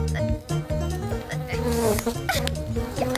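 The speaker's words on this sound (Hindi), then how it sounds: "यहाँ मच्छर, वहाँ मच्छर, जहाँ देखो वहाँ मच्छर ही मच्छर।" Mosquitoes buzz in the Motu Patlu cartoon movie, a busy, whining drone layered over tonal background music and other cartoon effects.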